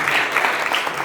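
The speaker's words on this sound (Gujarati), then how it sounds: "એકવાર જોરદાર તાળીઓના ગડગડાટથી" Audience applause at an alumni meeting in Patan, a dense, steady wash of many hands clapping close and loud throughout, with no voices over it.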